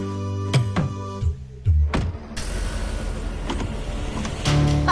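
A driverless car keeps rolling without stopping: a motor hum and road rumble build under several sharp thumps and clunks early on, then a steady vehicle drone continues to the end.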